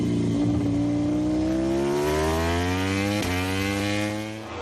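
Andrea Dovizioso's MotoGP racing motorcycle at Misano during the 2017 San Marino Grand Prix screams as its engine revs climb, then a sharp gearbox shift snaps the pitch back before the whine climbs again and fades slightly.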